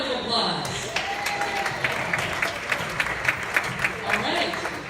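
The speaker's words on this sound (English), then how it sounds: "Another round of applause." Sustained audience applause following a youth jazz performance, steady and full across the whole span with a few sharper claps standing out, and faint voices mixed in.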